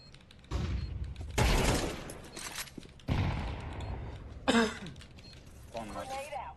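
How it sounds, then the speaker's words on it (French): Bursts of video game gunfire crackle in several rapid volleys, with a player talking over the shots at low volume. "Throwing fire."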